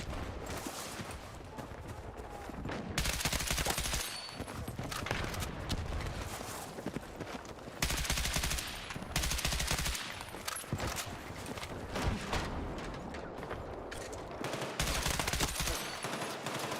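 Gunfire in the shooter Battlefield 6 from a rifle fitted with an underbarrel attachment. Repeated bursts and volleys of shots ring out amid busy battle noise, and the firing stays loud throughout.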